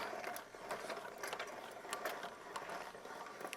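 A ratchet jack is cranked to lift a truck bed, giving a quiet run of rapid mechanical clicks in uneven bursts, close by, with no talk.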